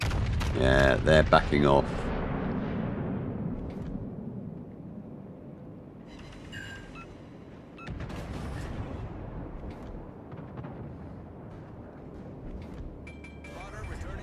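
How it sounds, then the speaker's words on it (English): Warship guns boom across the water in World of Warships: Legends, a loud opening salvo with a long rumbling decay, then further distant thuds and shell impacts under a voice. "He starts shooting away at the ships down there, the Conqueror."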